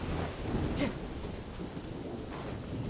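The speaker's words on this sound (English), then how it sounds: "Taking a stroll in the middle of a downpour certainly rouses the spirit." A heavy downpour hisses steadily in Genshin Impact while thunder rumbles low beneath it, with a brief sharper crack near the start and the rain continuing alone.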